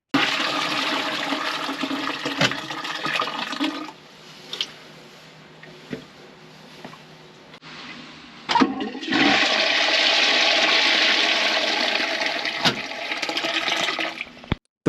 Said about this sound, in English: when I flushed it, it filled up again